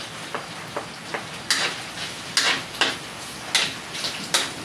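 Garlic being stirred and fried in a pan for pancit, with repeated scraping strokes of a spatula and soft sizzling in between, close and fairly quiet, no talking.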